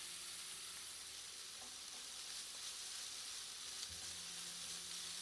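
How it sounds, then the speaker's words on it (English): Cauliflower frying in a pan, a steady soft sizzle with a faint hiss, continuous and fairly quiet, with a few light stirring clinks and no talking. "And fry the cauliflower a bit"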